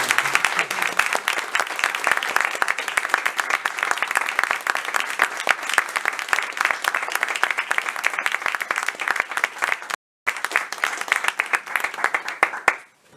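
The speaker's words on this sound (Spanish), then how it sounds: "un aplauso para Horacio" Audience applause at a festival in honor of Horacio, dense steady clapping that fills the space for about ten seconds, breaks off briefly, then resumes before fading out.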